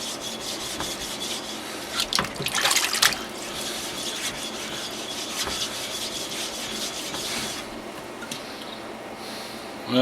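Water runs steadily in a sink while Norton 4000 and 8000 grit sharpening stones are lapped, giving a continuous wet rubbing and rasping texture with a brief louder scrape partway through, close up and without speech.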